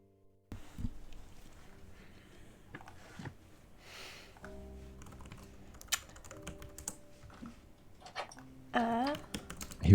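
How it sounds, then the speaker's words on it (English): Someone types on a computer keyboard during an online tabletop role-playing session: a steady, close patter of key presses with brief pauses and a few sharper clacks, over quiet room noise. "I hear typing. I hear typing."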